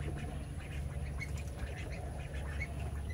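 Ducks quacking nearby on a small backyard setting, scattered calls over a steady low background hum, no voices.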